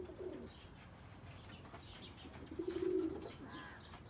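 Roller pigeons coo softly nearby, a few low, throaty murmurs rising and fading over faint background noise, with no one talking.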